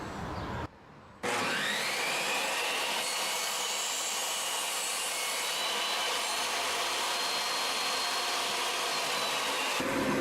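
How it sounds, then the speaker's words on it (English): Saw blade cutting through clamped wooden boards for a shot glass display case, a loud steady whining buzz that starts after a brief pause and runs continuously to the end, with no talking. "Got my blade up high enough to cut all the way to the top."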